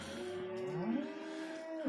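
A cow in a barn lets out one long, steady moo that lasts nearly two seconds, heard fairly close against quiet barn ambience.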